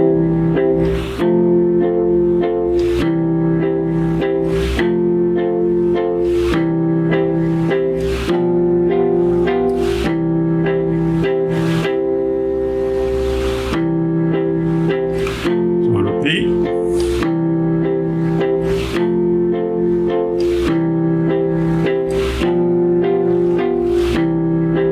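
Piano chords played together, struck repeatedly at a steady, moderate pace with notes sustaining between strikes, close and fairly loud, with a few faint background noises mixed in.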